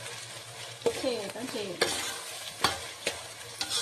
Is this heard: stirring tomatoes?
yes